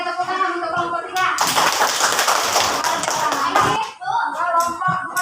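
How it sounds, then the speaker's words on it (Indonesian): A classroom of pupils applauds a student group, a dense burst of clapping lasting a few seconds between stretches of a teacher's talk. "tepuk tangan untuk kelompok 3"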